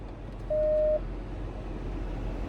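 A single steady electronic beep from a Dodge Durango's rear parking sensor, lasting about half a second, heard over a low rumbling engine idle while in reverse.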